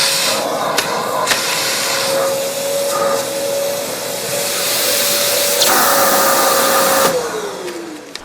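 A vacuum cleaner runs continuously in a hotel room, a loud, steady whine with a droning motor tone that shifts pitch slightly as it works, then winds down near the end.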